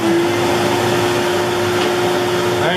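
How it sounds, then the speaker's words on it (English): A shop vacuum runs during CNC carving of a rough cut on an X-Carve, a loud steady whine with a strong constant tone, close and continuous with no talk. "start cutting the rough cut on the T after I turn on my vacuum here"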